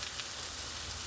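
Chopped onion frying in butter in a non-stick pan, a steady, even sizzle with soft crackling, close and moderately quiet, with no talking.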